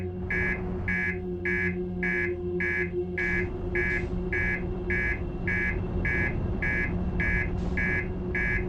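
A repeating electronic alarm in the space exploration game Outer Wilds beeps in a steady, evenly spaced pulse, about two beeps per second, loud and continuous over a low droning hum with no voices.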